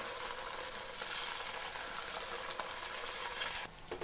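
Cut pieces of leftover-rice kurkure snack fry in hot oil with a dense, steady crackling sizzle. A brief scrape of a stirring ladle comes near the end.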